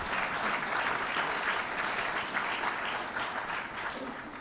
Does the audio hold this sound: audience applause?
yes